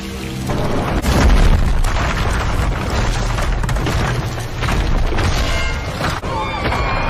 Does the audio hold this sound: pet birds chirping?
no